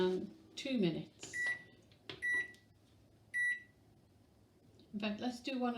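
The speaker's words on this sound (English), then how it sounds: "So it goes in the microwave" A kitchen microwave oven beeps in short bright bursts, three separate beeps spaced about a second apart, with a faint running hum underneath and people talking nearby around them while cupcake batter goes in to cook.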